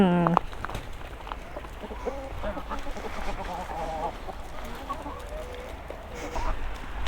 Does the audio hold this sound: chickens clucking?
yes